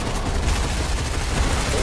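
Continuous gunfire aimed at the Storm King boss in Fortnite, a dense, steady barrage of shots at full volume throughout without pauses.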